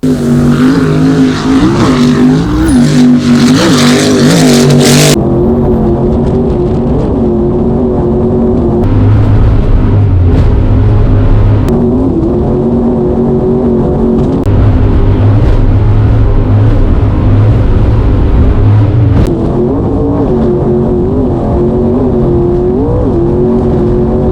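Offshore racing powerboats led by the Yellow Fountain roar loudly and continuously at Poole Bay in very high winds, engine pitch rising and falling as they tear through the water, with no voices.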